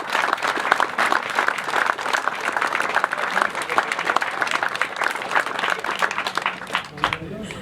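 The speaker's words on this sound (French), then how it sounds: "Je vous propose de les applaudir une nouvelle fois." Sustained crowd applause at the St Julien du Verdon village festival, dense clapping from many hands filling the whole span at steady loudness and tapering slightly at the end.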